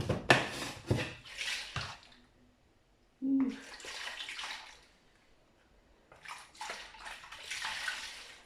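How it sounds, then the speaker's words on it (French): Running tap water splashes into a container while lemon-juice marinade with chili is rinsed out, coming in three bursts of gushing, sloshing flow separated by short quiet gaps. "Et je vais bien rincer tout ça."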